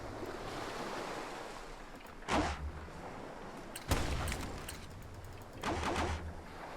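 A ship-mounted ballista fires in a Mount and Blade naval battle, sounding three sharp, heavy launches spaced a couple of seconds apart over a constant wash of waves and wind.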